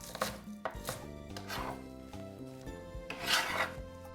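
A knife chops spring onion on a board in steady, quick cuts, each crisp tap close and distinct in a brisk rhythm, with no one talking.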